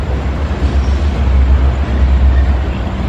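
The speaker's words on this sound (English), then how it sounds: "Got the train coming through here this morning." A train rolls along tracks running behind a row of businesses, a steady low rumble holding at close range throughout with no pauses.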